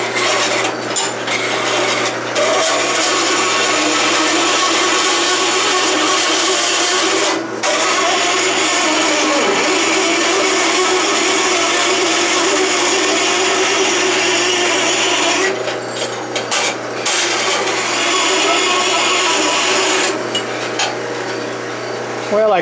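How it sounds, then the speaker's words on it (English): A Delta saw converted for metal cutting, driven by a gear motor and belts, grinds through 1/4 inch steel in a loud, continuous rasping drone with a steady motor hum and a few brief breaks. "I'm cutting 1/4 inch steel"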